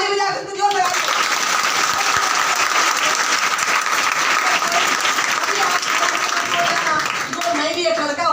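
An audience at a school International Women's Day celebration applauds, dense sustained clapping filling the whole stretch at steady loudness.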